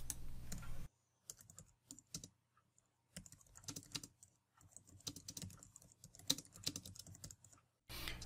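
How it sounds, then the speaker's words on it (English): A Logitech Craft keyboard is typed on in irregular clusters of close, crisp key clicks, with brief pauses between bursts and no talking. "that's the ideal tone that you're getting from this keyboard"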